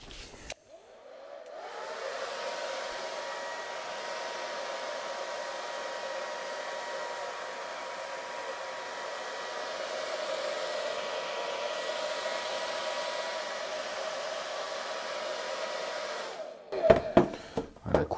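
A hair dryer blows steadily for about fifteen seconds, drying a thin layer of acrylic paint, its even whooshing hum starting and stopping cleanly, followed by a few brief clicks and handling knocks.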